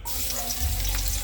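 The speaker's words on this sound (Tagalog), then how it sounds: "Unahin ko lang po mga kaibigan ang ating bawang." Garlic sizzles and crackles steadily in hot oil in a pan, a close, dense frying hiss throughout with no talking.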